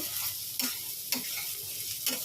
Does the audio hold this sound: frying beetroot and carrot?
yes